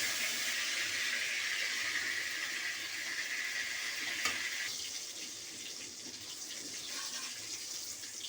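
Oil heating and sizzling in a cooking pan, a steady soft hiss throughout, with faint clinks and a slight change partway through, no talk.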